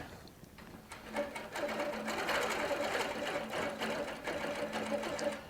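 A Baby Lock sewing machine stitches steadily with couching feet, quilting handmade cording, making a fast, even mechanical whir that runs close and continuous after a brief quiet start.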